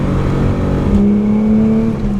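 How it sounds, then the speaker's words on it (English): An AU Falcon engine fitted with a J3 performance chip revs steadily and loudly, with a rising, sustained note in the middle of the clip and no talk over it. "it's revving nicer as well."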